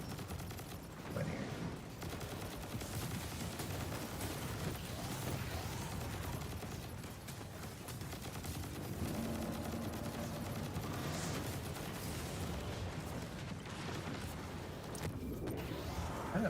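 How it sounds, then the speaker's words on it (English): Continuous gunfire and explosions in a shooter video game, dense rattling bursts and crashes running without pause, loud and busy with no clear talking. "I really want to know what's exploding in the wall over there"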